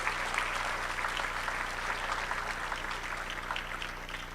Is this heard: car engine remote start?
no